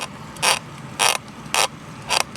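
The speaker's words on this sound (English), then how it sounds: "So now I will take a set of pliers, hold on to that nut, and continue tightening" A metal nut on a swimming pool light is tightened with pliers in four evenly spaced bursts of gritty scraping and creaking, close and distinct with short pauses between turns.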